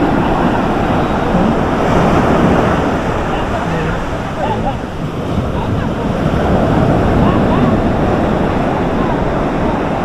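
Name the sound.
ocean waves on the shore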